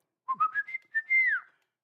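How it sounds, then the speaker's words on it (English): A person whistles a short melody of several quick rising notes, ending in a longer sliding tone. The whistling is clear and close in a quiet room, with no talking. "And I can whistle, which I couldn't do before."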